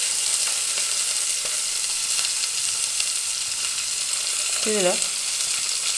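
Tempering seeds, chopped onion, curry leaves and plenty of green chillies fry in hot oil for a bottle gourd curry, giving a constant loud sizzling hiss, while someone speaks briefly near the end.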